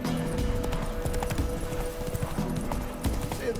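Hooves of Roach, a horse in the video game The Witcher 3, clip-clop in a brisk steady trot, close and continuous with faint game ambience underneath.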